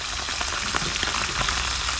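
Yellow croaker fish frying in a pan, a loud, constant close sizzle with small crackles and pops scattered through it and no talking.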